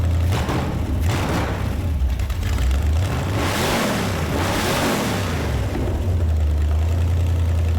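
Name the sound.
car engine idling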